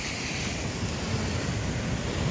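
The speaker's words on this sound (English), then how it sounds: "Whoa, big waves" Big ocean waves crash and surge in a continuous, loud wash of surf, with wind roaring across the microphone and no voices.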